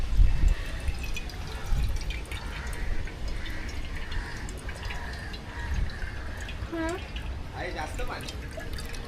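Coconut water trickles and splashes into a glass, giving faint irregular dripping and gurgling against outdoor background, while people talk nearby.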